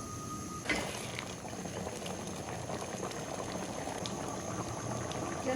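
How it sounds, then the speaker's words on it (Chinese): Tofu and pig blood soup thickened with starch slurry boils hard over high heat, a steady close bubbling and popping that runs continuously with no talk. "快速给它浇入我们煮好的豆腐里面，再次用大火给它煮开"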